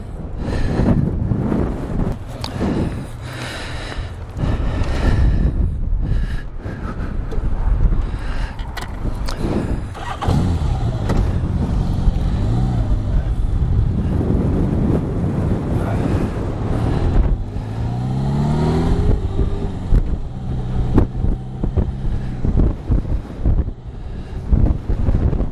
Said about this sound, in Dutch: Dan komt het gewoon door de harde wind.